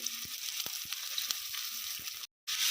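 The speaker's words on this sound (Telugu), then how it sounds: "ఆనియన్స్ వేసుకొని బాగా వేయించుకోవాలండి" Chopped onions frying in a pan for egg bhurji give a steady, soft sizzle with occasional small clicks of stirring, then a brief silent gap near the end.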